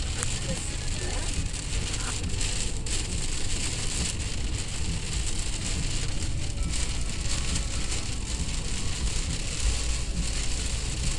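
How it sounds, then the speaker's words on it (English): Heavy rain pours down steadily while driving on a highway during a severe thunderstorm near Cranberry and New Castle, Pennsylvania, a dense continuous hiss and patter drumming on the car with road noise beneath. "The rain is awful."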